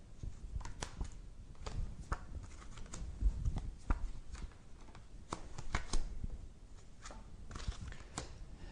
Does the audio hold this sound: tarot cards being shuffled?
yes